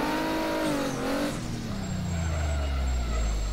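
Toyota Supra in the rFactor 2 racing game, engine revving high then dropping as the front wheels lock up and the car skids and skates out, ending in a loud low rumble.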